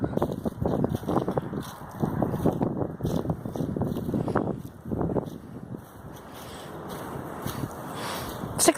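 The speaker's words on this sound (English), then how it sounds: "it's really windy" Strong wind gusts buffet the microphone outdoors on a warm day, with loud rumbling bursts that later settle into a steadier rushing noise; no speech is heard.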